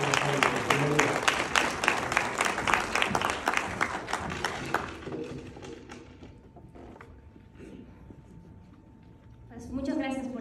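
An audience at a physical education forum in the Mexican Chamber of Deputies claps in a dense burst that fades after a few seconds, followed by a voice speaking at the end.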